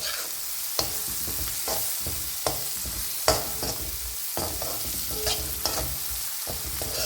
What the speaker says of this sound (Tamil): சின்ன வெங்காயம் நல்லா வதங்கணும்.